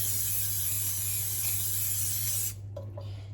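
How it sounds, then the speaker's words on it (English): Cooking spray hisses from a can onto a non-stick pan on a stovetop in a steady, close, loud burst of nearly three seconds that cuts off abruptly, leaving a couple of soft clicks from the can afterward. "let's spray our non-stick pan."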